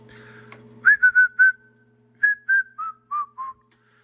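A person whistles into the microphone of a Central Electronics 100V transmitter running into a dummy load. Eight clear, close melodic notes come in two short phrases, with a brief pause between them and a faint steady hum underneath.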